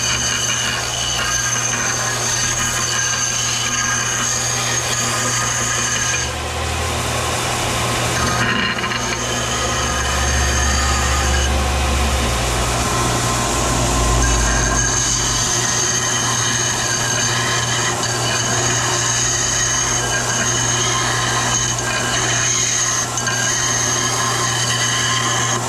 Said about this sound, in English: what I'm gonna do is take it over to my sander and trim it all out